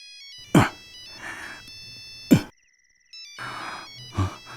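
A mobile phone rings with an incoming call, a bright electronic ringtone melody that repeats in short bursts with brief pauses, loud and close, alone without talk.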